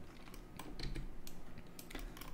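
Computer keyboard keys pressed for 3ds Max shortcuts, heard as a few soft, close, quiet clicks and taps over a low background hum with no talking.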